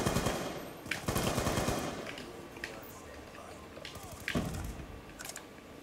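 Gunfire in the video game Black Ops 2: a sharp loud shot, then rapid bursts of automatic fire and scattered single shots, with a steady game din between them.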